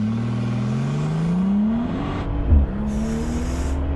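A Brabus G800 with a V12 launches hard, its engine note climbing steeply through the revs with a gear change midway, loud and close from inside the cabin, with no talking.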